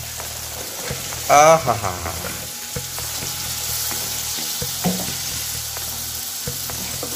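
Spices such as baharat curry powder and cumin fry with a little tomato in a pan, giving a steady close sizzle with scraping and tapping of stirring, while a voice briefly exclaims over it.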